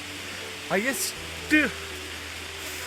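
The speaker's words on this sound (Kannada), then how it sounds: "ಇಂಥ ಮಳೆ ಬೀಳ್ತಾ ಆಯ್ತಾ" Steady rain hisses through the whole stretch in the rainy Agumbe forest near Jogi Gundi waterfall, a constant soft wash under two short bursts of people talking close by.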